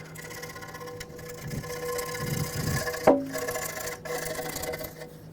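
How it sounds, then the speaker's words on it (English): Scraping old gasket material off the oil pan of a Chevrolet Express van, a run of short rasping scrapes at close range, with one sharp metallic clink midway and quieter strokes continuing after. "try to scrape towards the outside just so you don't make more work for yourself"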